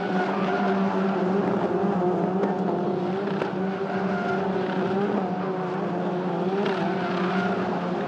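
Peugeot 208 race cars howl around the Magny-Cours circuit during a 208 Racing Cup race as one car goes off track: a loud, continuous engine drone with high revs, steady throughout.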